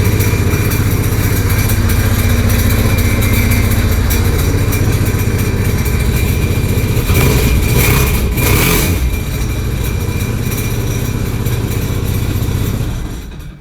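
The engine of a 2005 Sea-Doo GTX Limited jet ski, supercharged at 185 HP, runs close and loud with a steady mechanical drone. It rises briefly in the middle, eases slightly, then cuts off at the end.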